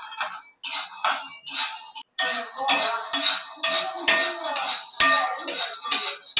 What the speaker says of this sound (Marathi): तर आता कमी गॅस करून आपण छान घोळे घोळे शेंगदाणे भाजून घ्यायचे आहेत